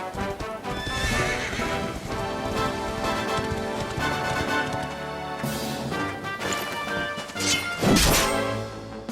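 A horse in the video game Dragon Quest XI clip-clops and whinnies, with steady hoofbeats under game music and a sharp neigh near the end.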